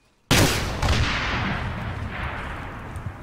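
A pair of RPG rockets strikes a weapons cache in ArmA 3: a sharp, loud blast hits hard at once, followed by a second impact and a long rumbling decay, with no talk over it.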